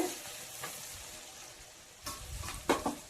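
Tomatoes cook in a pan for a khadak rotti oggarane, giving a soft, steady sizzle with a few louder scraping stirs near the end.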